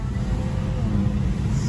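A tuned BMW 335i with an N54 engine on pump gas accelerates hard under boost, a loud, steady engine drone heard from inside the car with a rising tone near the end, and no talking.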